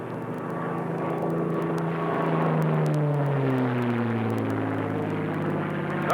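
A warbird's piston aircraft engine roars steadily and loud as the fighter pulls out of a dive, with a falling propeller drone and a strong continuous rumble throughout.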